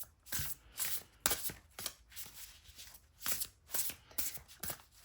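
Tarot cards are shuffled by hand in steady, close riffling bursts, about five or six crisp swishes in a row, with no voices.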